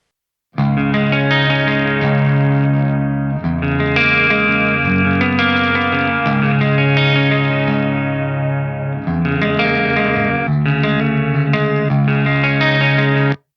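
Electric guitar chords through a Soldano-style amp simulation, strummed with a shimmering, swirling chorus effect and slight grit, playing continuously with a few brief pauses, loud and up close.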